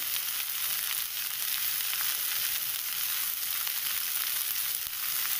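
Spinach and grated coconut fry in a pan for thoran, giving a steady, dense sizzle that holds at an even level throughout without a break.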